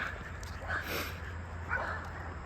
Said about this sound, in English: that dog barks so much